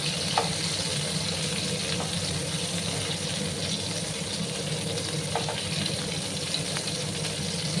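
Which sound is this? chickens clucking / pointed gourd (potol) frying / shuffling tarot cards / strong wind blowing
pointed gourd (potol) frying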